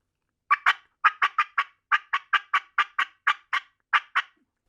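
A wild turkey call made by a person's mouth: about sixteen sharp, crisp yelps come in quick pairs and runs, close and clear with silent gaps between them, imitating a turkey.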